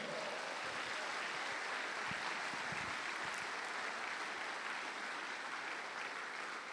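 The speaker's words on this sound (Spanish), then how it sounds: "Dale un aplauso al Señor." A church congregation applauds in a sustained, dense wash of clapping that continues steadily for several seconds, heard from a distance at low level.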